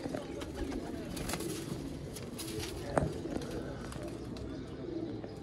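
Pigeons coo softly in a steady, overlapping chorus, with a brief louder flutter or knock partway through and faint talk in the background.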